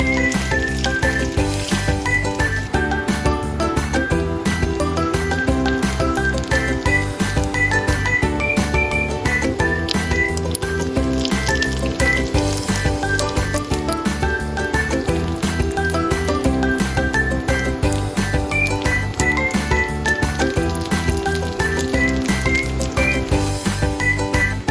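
Tofu-based vegan fish patties pan-fry in oil, giving a dense, continuous sizzle and crackle that runs throughout with a steady bubbling texture and no voices.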